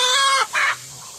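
A chicken at a homestead coop clucks loudly and close in two bright bursts, followed by a quieter trailing call, with no talking.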